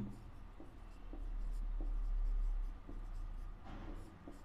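Chalk or marker scratches across a board during a maths lesson on sets and subsets, with soft strokes and taps under quiet room noise.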